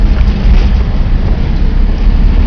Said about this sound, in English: It's pretty windy, as you can see.